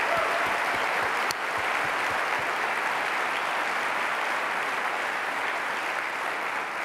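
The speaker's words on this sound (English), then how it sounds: "I thought we all deserve you a big round of applause for your contribution" A conference audience gives a round of applause, a dense, even wash of clapping that holds steady and fairly faint throughout, with no talking.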